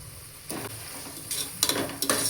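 Chicken biryani masala being stirred in a pot with mint and coriander leaves added, heard as a steady background hiss broken by several scraping, clinking strokes of a spoon against the metal, growing busier toward the end.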